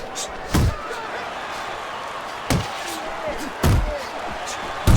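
Four heavy punches land in a Mike Tyson versus George Foreman boxing video game fight, sharp thudding impacts spaced a second or two apart over a low background of crowd noise.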